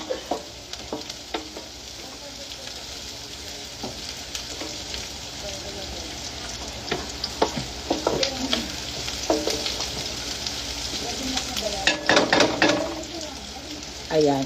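Marinated meat sizzles loudly in a hot pan, steady frying hiss broken by scraping stirs and clanks of a utensil against the pan, growing busier toward the end, with faint talking in the background.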